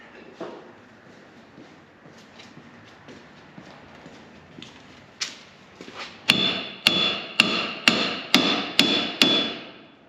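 Small sledgehammer pounding metal during a Ford 8-inch rear end carrier swap on a 1966 Mustang: light taps and shuffling at first, then eight loud, evenly spaced ringing strikes close by.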